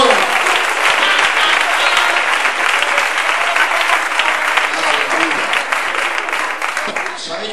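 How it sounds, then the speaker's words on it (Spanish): A church congregation applauds in sustained, dense clapping that holds steady for several seconds and then begins to ease slightly, with voices mixed into the crowd noise. "Dale un aplauso al Señor."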